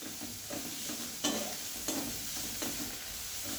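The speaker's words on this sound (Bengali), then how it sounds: "এবার এইটা দিয়ে এই পেঁয়াজ ভাজার সঙ্গে খুব ভালো করে কষাবো।" Steady sizzling hiss of ground spice paste frying with onions in a pan, with a few sharp scrapes and clatters of stirring at irregular intervals.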